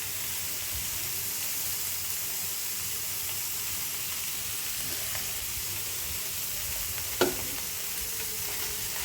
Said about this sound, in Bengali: এটাকে আলুগুলো দিয়ে এটাকে সুন্দর করে ভেজে নেব